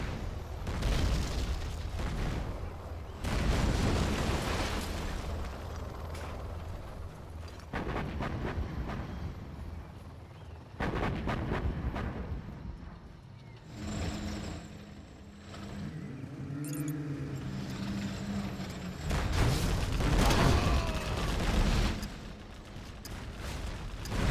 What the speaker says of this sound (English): Okay, artillery coming through from Tumstep. Takes out one of the markets of ExCaL.